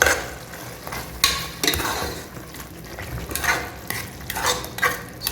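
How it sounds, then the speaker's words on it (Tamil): Mutton gravy with tomato boils hard in a pan, giving a steady bubbling sizzle broken by louder scraping bursts of stirring, close up and with no talking. "ஸோ கொதிக்குது நல்லா."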